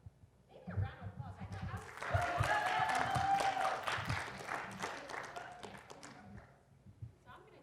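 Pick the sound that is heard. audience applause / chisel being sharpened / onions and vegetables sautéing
audience applause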